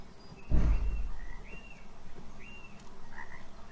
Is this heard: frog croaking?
yes